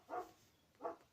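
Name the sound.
big dog barking outside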